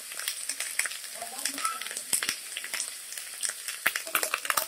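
Garam masala, coriander, turmeric and red chilli powder hit hot oil over fried onion paste, crackling in a busy sizzle with sharp irregular pops and spatula clicks, close and fairly loud, with no speech.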